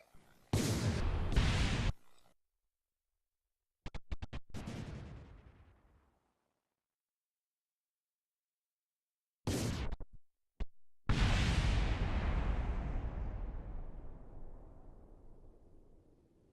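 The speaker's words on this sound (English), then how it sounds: "followed it real time down to the surface, where it made for a reasonably satisfying explosion, or 2 or 3." A crashing space station explodes in the video game Kerbal Space Program: several separate booming blasts divided by silent gaps, the last one loud and rumbling as it slowly fades out.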